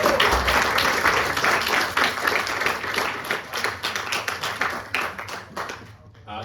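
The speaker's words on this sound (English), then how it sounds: "Maybe a round of applause for all participants at the grand finals." An audience at a schools debating grand final claps for the participants, a dense burst of applause that slowly thins and fades out over several seconds.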